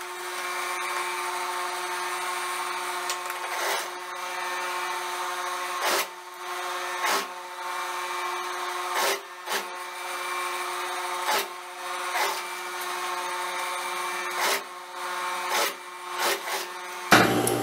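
A sewing machine runs a seam joining a sleeve to a dress shoulder, a steady mechanical whir broken by short pauses and restarts, close and fairly loud with no talking.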